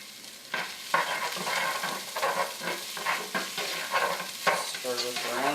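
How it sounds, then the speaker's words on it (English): Chopped onion and red pepper flakes sizzle in a hot soup pot while being stirred, with soft frying hiss and repeated scraping strokes of a spoon at close range. "I'm going to go in with our chopped onion and a little bit of red pepper flake."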